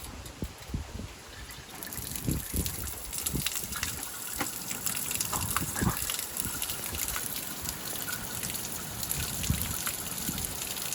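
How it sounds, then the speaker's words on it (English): Water gushes and splashes steadily as a Trans Am's engine block and radiator are flushed out, a continuous close rushing with scattered trickles and drips throughout. "So we're gonna try to flush the block out and flush the radiator out"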